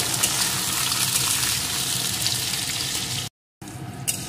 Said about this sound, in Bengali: এখন টুকরো করে কেটে রাখা পেঁপেগুলোকে দিয়ে দেবো। পেঁপেগুলোকে একটু ভেজে নেব।